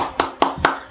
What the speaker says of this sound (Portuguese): Palmas para o Fábio.